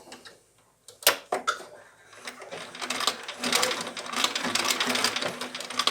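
A home sewing machine stitches a mitten seam along the thumb edge, starting with a few sharp clicks and thumps, then building into a fast, steady mechanical whirring chatter that runs close and continuous to the end.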